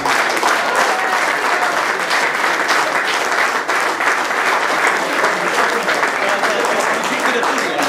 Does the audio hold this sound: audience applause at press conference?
yes